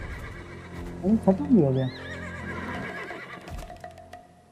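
Horses in the video game Black Desert Online give a loud, close whinny, a rising then falling harmonic cry around the middle of the moment, with game ambience before and after and someone speaking briefly over it.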